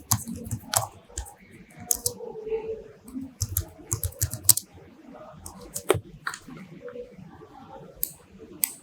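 Typing on a computer keyboard, irregular bursts of close, crisp key clicks with short pauses between, with someone talking in between the keystrokes.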